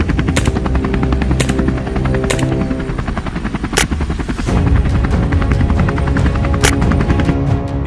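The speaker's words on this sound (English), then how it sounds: "Helicopter noise can disturb wildlife and affect non-target animals." A helicopter flying over a wild boar hunt on a Georgia farm gives a loud, steady rotor thrum throughout, with a few sharp bangs that sound like gunshots rising above it.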